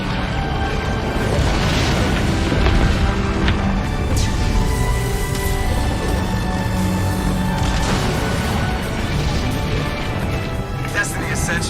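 Rocket explosions and deep booms in a Mass Effect space battle, a sustained rumbling barrage with crashes layered over it, loud throughout while voices talk over the action.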